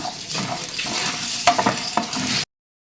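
Poppy seeds roasting with masala in a pan for a chicken gravy, a continuous close sizzle with a few quick scraping stirs, ending abruptly.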